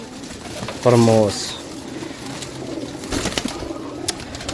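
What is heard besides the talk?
pigeons cooing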